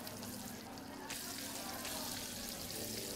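Eggs fry on a self-heating pan in the video game Arctic Eggs, a continuous hissing sizzle that stays fairly quiet and even, brightening slightly partway through.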